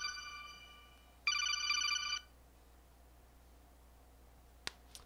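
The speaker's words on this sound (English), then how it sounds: "Yeah, it's the MGS codec call sound." Metal Gear Solid codec call ringtone playing during Half-Life gameplay, two bright electronic ringing bursts, the second louder, followed by a couple of sharp clicks in a quiet background.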